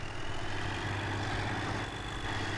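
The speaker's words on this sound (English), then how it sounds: "that tractor's really loud when you're not inside of it" Loud, steady low rumble of a tractor engine idling in Farming Simulator 2013, heard from outside the cab, continuous and close with no speech.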